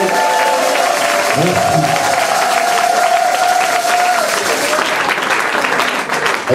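A church congregation applauds and cheers steadily, dense clapping filling the whole stretch, with a sustained sung or held vocal tone and a brief spoken word over it.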